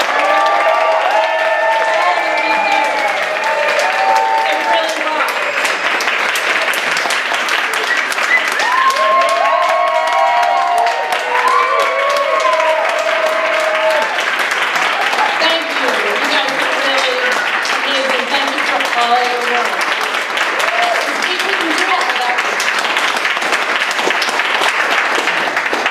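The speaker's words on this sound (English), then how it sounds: "what I want right now is a big, huge round of applause for these two amazing people" Big, sustained round of applause from an awards-ceremony crowd at a Seattle Neighborhood Greenways event, dense clapping mixed with scattered cheers and whoops throughout.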